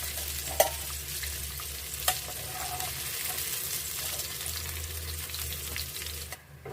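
Continuous sizzling of sausage frying in a pan on a gas stove, with a couple of sharp clinks of a utensil against the pan.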